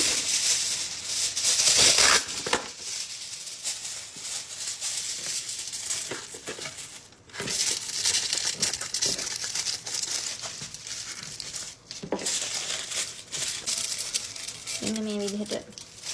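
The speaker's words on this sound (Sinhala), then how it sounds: "ඒ නිසා මෙතන මෙහෙම වටේ සරන් රැප් එකකින් ඔතාගෙන ඒක ඇලුමිනියම් ෆොයිල් එකකින් වහගමු." Aluminium foil crinkles and rustles in bursts as it is pressed over a cling-wrapped cake pan for a Japanese castella cake, close and fairly loud with short pauses, and a voice is heard briefly near the end.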